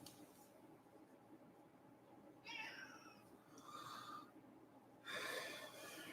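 A pet cat meowing indoors, three distinct meows spaced a second or two apart, close but soft against a quiet background hiss.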